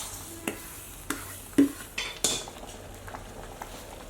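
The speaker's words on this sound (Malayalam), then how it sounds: "ഈ തിളക്കുന്ന സമയത്ത് നമ്മൾക്കിവിടെ വറുത്ത് വെച്ച റവ ഇതിലേക്ക് കുറച്ചായിട്ട് ഇട്ട് കൊടുക്കാം." Roasted semolina is added to boiling water and stirred in a pan for pineapple kesari. Faint bubbling sits under several distinct metal spoon clinks and scrapes against the pan, with no one talking.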